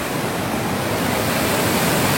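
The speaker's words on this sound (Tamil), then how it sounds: "காட்டுக்குள்ள இருந்து தண்ணி வருது, மழை தண்ணி எல்லாம்" Steady, full rush of rainwater flowing out of a forest over a small check dam, continuous and fairly loud with no voices.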